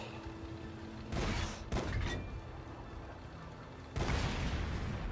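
Artillery guns firing in World of Tanks, Sexton I self-propelled gun on console: loud booming blasts at about one, two and four seconds over a steady background hum, the first two close together.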